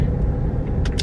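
Car rolling through a residential neighborhood street, a loud continuous low rumble of engine and road noise heard from inside the cabin, with brief hissy bursts near the end.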